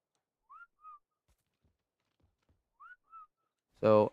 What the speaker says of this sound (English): if I just fly over the area and whistle, the beavers should come running